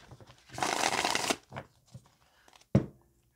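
A deck of tarot cards is shuffled in one long riffling burst, followed by a few softer card flicks and a sharp snap near the end, close and otherwise quiet.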